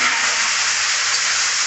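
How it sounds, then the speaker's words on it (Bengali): Onions frying in a pan, a loud, steady, close sizzling hiss with no break. "পেঁয়াজটা লাল লাল করে ভেজে নিচ্ছি"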